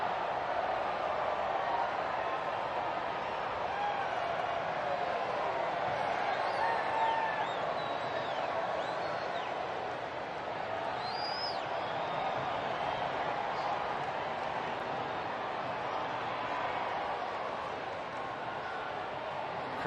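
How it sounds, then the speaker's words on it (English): Crowd at a night baseball stadium in a Reds versus Rockies game, a steady distant roar of cheering with scattered whistles and shouts rising above it, a voice talking faintly beneath. "Crowd's getting excited tonight"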